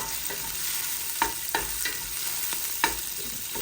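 Pork mince with 5% fat and onion cook in a pan, a constant close sizzle broken by several sharp scraping stir strokes at irregular intervals.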